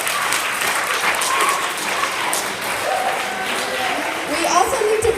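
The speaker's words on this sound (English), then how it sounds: "let's give them an amazing round of applause" School audience applauding backstage managers and helpers at a student event, a steady sustained wash of clapping throughout, with voices and cheers mixed in.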